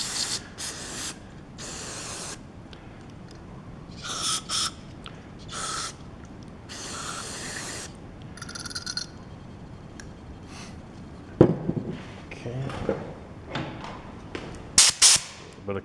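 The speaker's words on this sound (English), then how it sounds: "Bit of compressed air." Bursts of compressed air blown through a snowblower carburetor during a tune-up, several short hissing blasts separated by pauses, with handling clicks and knocks near the end.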